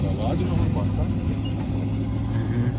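A Tatra truck hauling a load away from an excavator at a quarry gives a loud, steady low engine rumble throughout, with people talking over it.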